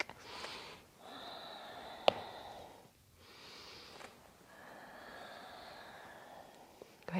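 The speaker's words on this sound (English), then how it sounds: "Inhale forward, exhale back." A person breathes slowly during a yoga stretch, with soft, close, drawn-out inhales and exhales in an even rhythm. A short sniff and a quiet click break the airflow once, and the air is otherwise quiet.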